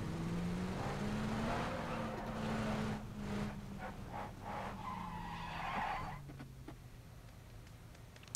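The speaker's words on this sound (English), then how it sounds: "grab that truck, and get going" A truck driving across the Miramar desert map in PUBG, its engine droning steadily with tyre skidding and squeal, fairly quiet overall and fading toward the end.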